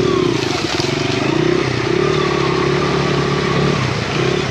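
A Honda XR100R trail motorcycle pushes through bushy, swampy terrain, its small engine giving a loud, continuous buzzing drone close to the rider.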